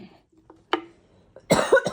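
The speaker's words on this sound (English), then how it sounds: "I've been really sick, so I still have my cough" A sick person gives a few short, sharp coughs up close, a single cough first and then a rougher double burst, with no talk.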